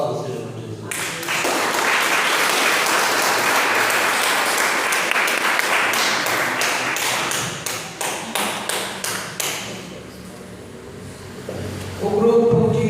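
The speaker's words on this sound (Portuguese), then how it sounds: "Aplauda o Senhor Jesus" A church congregation at a family service breaks into loud sustained applause that holds steady for several seconds, then thins into scattered claps and fades, with a voice briefly heard at the end.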